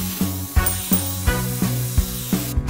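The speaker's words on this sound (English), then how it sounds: "let's try out this magic spray airbrush" A toy magic spray airbrush hisses out paint in a steady spray over a rhythmic pulsing motor hum that repeats about every third of a second, close and continuous.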